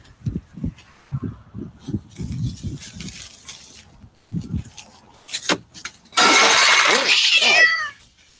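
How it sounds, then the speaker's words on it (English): A cat meows repeatedly in short close bursts, joined by quieter cries, then a loud burst of rushing noise near the end, with no voices. "Hi, Mr. Cat."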